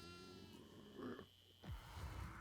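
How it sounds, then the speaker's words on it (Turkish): Goat bleats from livestock in the Devour horror video game, heard as a couple of short nasal cries over a steady droning game ambience, fairly close and moderately loud. "Burada iki tane keçi var."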